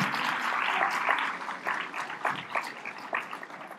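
An audience claps steadily, a dense patter of many hands that thins slightly toward the end.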